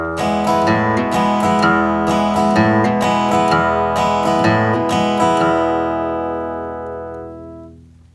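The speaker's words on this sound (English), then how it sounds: "I'm going to show you a really nice country strumming pattern that sounds something like this" Country guitar strumming pattern played on a guitar, a steady run of rhythmic strums ringing out loud and close, then left to fade on its own over the last couple of seconds.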